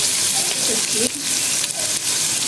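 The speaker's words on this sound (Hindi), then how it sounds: "हमने 1 किलो गोश्त लिया जो हम इसमें डालेंगे। ये आराम से डालिएगा, तेल के छींटे उठते हैं।" Beef pieces on the bone, a kilo in all, hit hot oil with cumin in a biryani pot, giving a steady, loud, close sizzle and spatter throughout.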